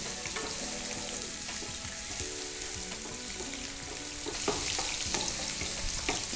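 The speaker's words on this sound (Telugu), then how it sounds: "అది వెల్లుల్లి, అల్లం ఆయిల్లో సాటే చేసుకోవాలి." Finely chopped garlic and ginger sauté in hot oil for Schezwan chicken, giving a steady sizzle with occasional stirring clatter and a faint tonal hum under it, and no voices.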